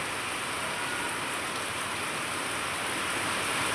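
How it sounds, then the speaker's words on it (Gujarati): Steady, heavy rain pours down without a break, a dense hiss filling the whole clip with no voices or other sounds. "અમારા ત્યાં વરસાદ સવારથી ચાલુ છે"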